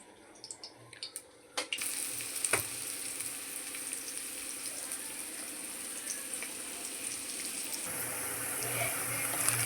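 Whole cardamom, cinnamon and cloves frying in hot oil for chicken curry, a soft continuous sizzle after a few sharp clatters at the start, fairly quiet and steady throughout.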